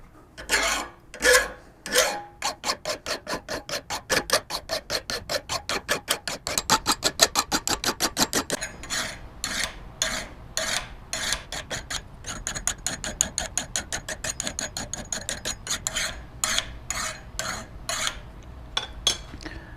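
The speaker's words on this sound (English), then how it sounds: "We're going to start with a large file for major stock removal" A large file rasps across a hand-forged knife blade held in a vise in a blacksmith shop. The steady rhythmic strokes come close and clear, speeding up into quick even passes and then slowing into more spaced strokes, with no talking.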